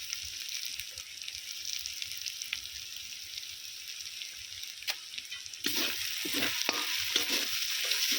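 Spice masala with red chili powder and turmeric being sautéed and stirred in a pan for chicken curry, a steady close sizzle with scraping stir strokes that grow busier and louder partway through, no talking.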